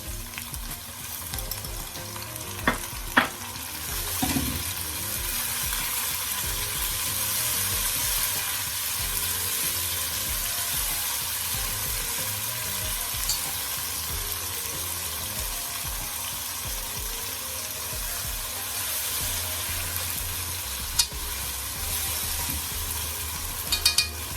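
Chopped tomatoes sauté in a hot pan for ackee and saltfish, a steady, even sizzle that holds throughout with a few faint clicks and knocks of utensils. No one talks.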